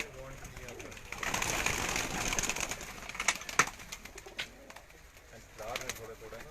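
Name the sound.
breeder pigeons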